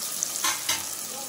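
A ground spice paste sizzles and fries in a pan for an oyster dish, with a steady hiss, briefly stirred, close and moderately loud.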